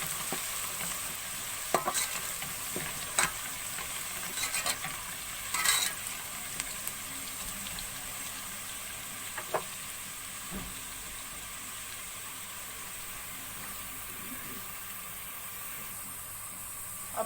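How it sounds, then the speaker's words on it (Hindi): Garlic frying in a pan after browned onions, with a continuous close sizzle and occasional sharp scrapes and clinks of a stirring spoon against the pan. "अब लहसुन को थोड़ी देर भून लेंगे।"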